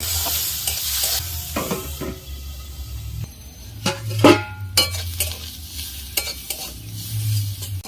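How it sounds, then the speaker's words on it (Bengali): Carrots frying in a pan, a steady sizzle broken by sharp, close scraping and clanking stirs of a spatula at irregular intervals, with no talking. "এবার গাজর ভেজে নেব"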